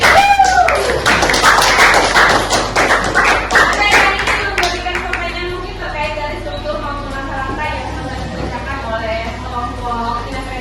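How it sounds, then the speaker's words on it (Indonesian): A classroom group claps for a student, a burst of dense applause that thins out into scattered claps while voices murmur underneath. "Oke, tepuk tangan dulu buat Afi."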